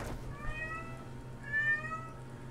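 A pet cat meows twice indoors in a studio room, with a drawn-out cry followed by a louder, longer one over a low background hum.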